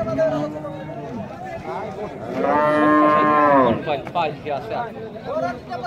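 A loud, long moo from a huge bull rises in the middle, close by, with people talking over and around it before and after.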